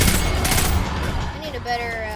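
Rapid gunfire in Destiny 2 fighting Taken enemies: dense, loud shots packed into the first second, then fading into game effects and tonal whines, with speech mixed in.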